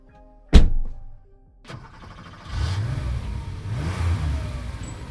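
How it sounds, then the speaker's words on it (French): A car door slams shut with a sharp thunk, followed by a second softer knock, then the car's engine starts up and rumbles steadily at close range. "Le son de la porte de leur voiture qui se fermait et le grondement de leur véhicule"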